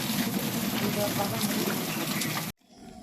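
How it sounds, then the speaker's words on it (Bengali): A steady, dense rush of a waterfall roars continuously, then cuts off abruptly near the end, leaving quieter background noise. "এই হচ্ছে ঝর্ণা।"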